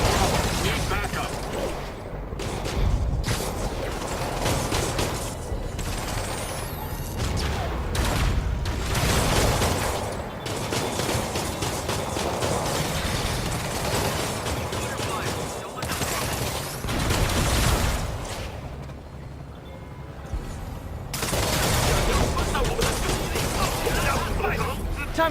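Gunfire in the Spider-Man PS4 video game, dense bursts of shots and booms under game music and radio-style voices, continuing in waves across the whole stretch.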